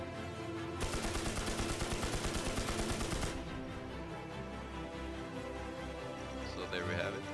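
Rapid automatic gunfire from a video game shooter, NewZ, fired steadily at a boss for a few seconds, then stops, leaving background game music and ambience.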